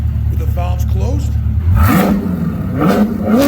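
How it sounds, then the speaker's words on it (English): A Chevrolet C8 Corvette with headers and aftermarket exhaust, valves closed, revs up from a low idle burble into rising, falling throttle blips, a loud, near engine note that climbs and settles in pitch. "here's the sound of the C8 with the headers and exhaust with the valves closed."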